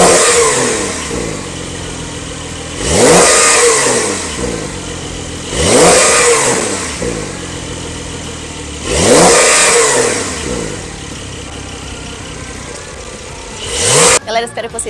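Porsche 911 Carrera S sports car engine revved hard three times in a row, each rising blip sweeping up loudly then falling back to a steady idle, with a few short sharp bursts near the end.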